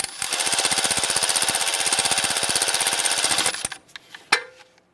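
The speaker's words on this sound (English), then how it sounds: "I'll go ahead and snug down this bolt." Power tool rapidly snugging down a bolt during front ABS wheel speed sensor replacement on a 2009-2015 Honda Pilot, a loud fast hammering rattle for about three seconds, then stopping, followed by a few small metallic clinks, no speech.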